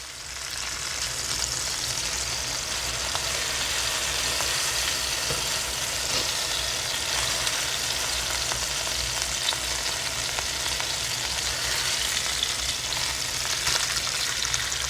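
Skirt steak sears in a hot pan, giving a dense, continuous sizzle and crackle. The sound holds a constant level from start to finish, is heard up close and stands alone.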